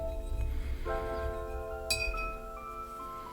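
Paintbrush rinsed in a glass of water while working on a red rose paint-by-number kit. A soft swish is followed by a single light clink of the brush against the glass, which rings out briefly and fades in a quiet room.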